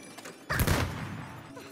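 A sudden burst of blasting noise from an explosion in the video game It Takes Two erupts and then trails off into a rumbling fade, following a brief quiet moment.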